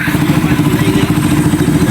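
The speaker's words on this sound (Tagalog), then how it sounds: "ito na ang makina ni boss ngayon oh" A close motorcycle engine runs in a workshop after repair work, a loud, steady throbbing idle with a faint mechanical clatter.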